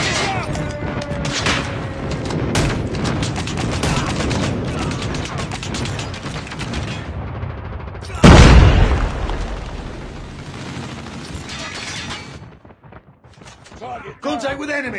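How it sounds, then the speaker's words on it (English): Airstrike explosions and gunfire in Call of Duty Mobile, with scattered shots and bursts leading into one massive close boom that rumbles and fades, then a quieter spell and renewed clatter, with game voice callouts mixed in. "Friendly airstrike incoming."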